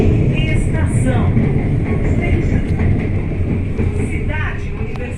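A subway train waits at Cidade Universitária station, its low, steady rumble filling the space while a spoken announcement plays over it.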